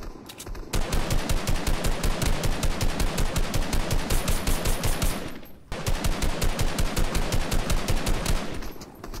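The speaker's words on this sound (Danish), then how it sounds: "Vi skyder på ham der nu, okay? 3, 2, 1, go! Skyd!" Rapid automatic gunfire from a Fortnite match, loud continuous bursts of fast, evenly spaced shots that break off for a brief pause and then resume.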